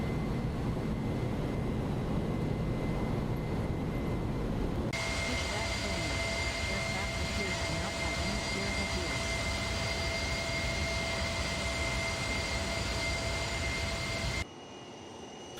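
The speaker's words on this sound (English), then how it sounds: "This is an old school plane." Airbus A310 jet airliner at Chicago airport, its engines roaring loud and steady with a sustained whine, tones shifting partway through, with cabin voices faintly underneath.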